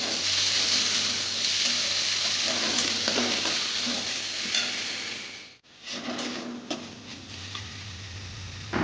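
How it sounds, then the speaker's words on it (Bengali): Chana dal is stirred into a fried spice paste in a hot pan, making a dense, loud, continuous sizzle with rough scraping. The sound cuts out briefly partway through, then the steady frying resumes. "ছোলার ডাল দিয়ে মশলাটাকে কিছুক্ষণ ভালো করে মিশিয়ে নেব"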